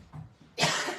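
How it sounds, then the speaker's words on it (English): A single cough, sharp and fairly loud, set slightly away from the microphone, following a moment of faint quiet room noise. "I didn't want to cough right in the microphone"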